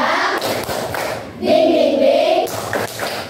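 Students doing the 'tepuk semangat versi 2' spirit clap in a classroom, bursts of rhythmic hand claps mixed with chanting voices, loud and close.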